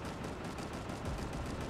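Gunfire in Rainbow Six Siege, a rapid burst of quiet, repeated shots rattling in quick rhythm over a dense game background, with no one speaking.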